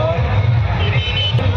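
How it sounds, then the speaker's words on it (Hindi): Dense crowd hubbub fills a packed open-air Hindu fair, the Budhwa Mangal mela at Mungra Badshahpur, with steady overlapping voices and a constant loud murmur close around. "बहुत भीड़ लगा है भाई यहाँ पर आज"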